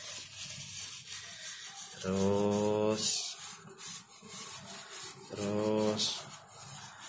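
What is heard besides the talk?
rubbing a keris blade in circular motions during cleaning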